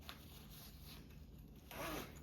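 A zipper slides open on the front pocket of a small Drac Pack Mini wristlet, one brief close zip near the end over quiet room tone.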